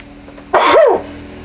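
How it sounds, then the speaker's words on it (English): A single loud, close sneeze bursts out of a quiet room, a sharp explosive blast that drops into a short vocal tail. "I'm about to sneeze."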